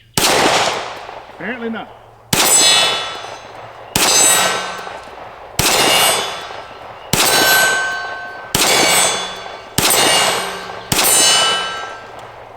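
Seven loud Smith and Wesson SD9 2.0 pistol shots hit steel targets, each sharp crack followed by a ringing metallic clang. They come at a steady pace about every second and a half, after a brief spoken remark at the start.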